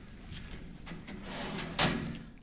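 A few soft thuds and scrapes build to a sharp door slam, followed by a brief fading rattle, with quiet background hum, from a door closing in the video game Resident Evil 7: Biohazard.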